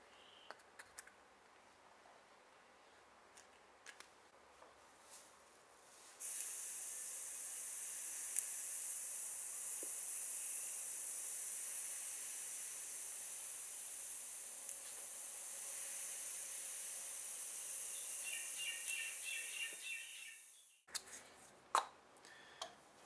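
A long, steady hiss from an aerosol spray can runs for roughly fourteen seconds, with faint clicks and taps before and after it.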